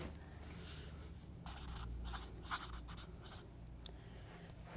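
Pen or pencil writing words on paper during a language lesson, a soft scratching run of strokes up close, faint and alone with brief pauses between words.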